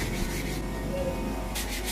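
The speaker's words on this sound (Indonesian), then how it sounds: "Jadi tetap harus dibantu menggunakan amplas tangan kalau mau benar-benar rapi" Hand sanding wood with sandpaper on a sliding shop door, a steady close scratchy rubbing with continuous strokes and a brighter swipe near the end.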